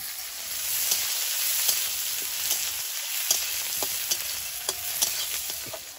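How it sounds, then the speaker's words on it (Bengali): Whole garam masala, bay leaf, grated ginger, green chilli, garlic and chopped onion frying in a pan for cabbage dhoka, a steady close sizzle with scattered stirring clicks and no talk. "সামান্য একটু জল দিয়ে মশলাটা কষিয়ে নেব যাতে পুড়ে না যায়।"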